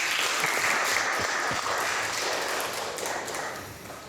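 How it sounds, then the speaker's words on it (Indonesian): A classroom of students claps for two classmates, steady applause with a few sharp taps that slowly thins out, with no speech over it. "Tepuk tangan dulu untuk Vicky dan Hafiza."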